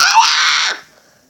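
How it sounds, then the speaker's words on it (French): A single sustained scream from a person, loud and close, lasting under a second and ending abruptly into near silence. "Crie, s'il te plaît."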